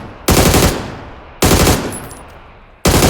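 Three loud bursts of automatic rifle fire from the PUBG video game, each a sustained rapid spray lasting about a second, separated by brief pauses as the echo decays.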